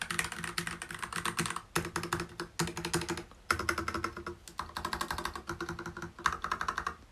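Keys clacking on a Hansung TFG ARF full rubber-bodied keyboard with red switches: quick, fairly soft bursts of close typing separated by short pauses, with no talking.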